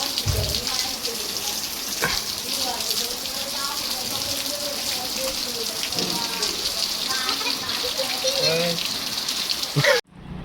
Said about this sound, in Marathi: अजून पाऊस चालूच आहे अजून